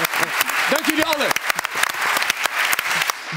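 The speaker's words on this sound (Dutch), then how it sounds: "dat applaus is voor jullie" Audience applause at the close of a televised Dutch interview programme, dense steady clapping throughout, with a voice speaking briefly over it.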